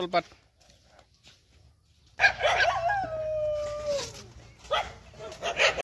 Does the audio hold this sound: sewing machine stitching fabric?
no